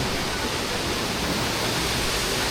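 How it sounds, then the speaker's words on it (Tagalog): Free-flowing water at a hot spring in Naga City, Bicol, makes a loud, continuous rushing hiss that stays steady and unbroken throughout. "Free flowing water."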